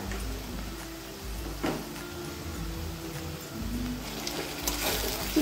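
Onions frying in a pan for a chicken sukka curry, a steady low sizzle and crackle running throughout with a few brief clinks of a utensil against the pan.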